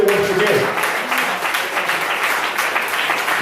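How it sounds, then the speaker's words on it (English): A crowd at an annual Christmas celebration claps and applauds continuously, a dense patter of many hands filling the room, with a voice speaking faintly underneath. "let's clap for being amongst the land of the living once again"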